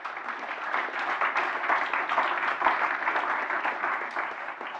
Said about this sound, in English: So big applause also for them